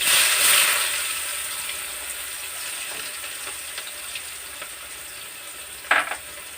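Chopped onion pieces frying in oil with cumin seeds while amaranth stems are being cooked, giving a steady close sizzle throughout and a brief sharper crackle near the end, with no voices.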